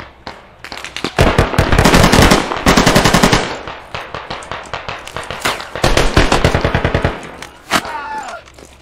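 First-person shooter video game gunfire, loud rapid automatic bursts in several volleys with short gaps between them, close and dominant, ending with a few scattered shots.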